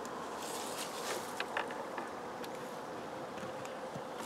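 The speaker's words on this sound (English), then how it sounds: "what happens when you let the bees rob out a colony" Honey bees robbing out a colony make a dense, continuous buzz of many insects, steady and fairly faint throughout with a few closer passes.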